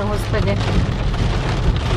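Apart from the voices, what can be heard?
rain falling on a car while driving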